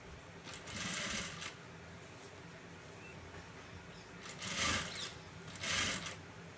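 Sewing machine stitching a two-coloured blouse, running in three short bursts of rapid needle chatter separated by brief pauses, close and fairly quiet.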